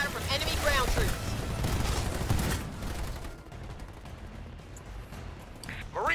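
Gunfire and explosions crackle through a battle in Halo Wars 2, dense and rumbling at first, then thinning to scattered shots, with radio-style voices speaking over the fighting.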